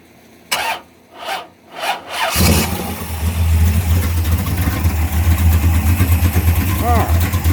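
A hot rod engine cranks in a few rhythmic bursts, then catches and settles into a loud, rough, steady idle that continues to the end, with a person talking over the cranking.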